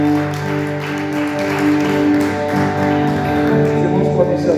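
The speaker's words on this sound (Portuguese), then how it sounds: "Dê uma salva de palmas para o Senhor." A church congregation applauds during a worship service, steady clapping spread through the room over sustained music or singing voices.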